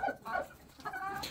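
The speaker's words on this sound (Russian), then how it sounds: "тут вот три курочки, они как бы и сидят на гнезде" Soft, faint clucking from hens sitting on a nest, a few short low murmured clucks in quick succession followed by a brief higher rising call, with no talk.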